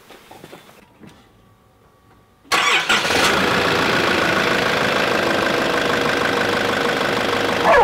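A car engine cranks and starts after an oil change in a shed, then settles into a steady, even idle that continues close and loud to the end after a quiet opening with faint clatter.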